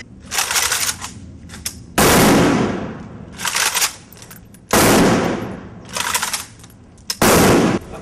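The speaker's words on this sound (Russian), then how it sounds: "В арсенале подводной стражи не меч и булава, а автомат Калашникова." Kalashnikov assault rifles fire a ceremonial salute at a Neptune festival: several loud, reverberant volleys in distinct bursts, each followed by decaying echo, with quieter shots in between.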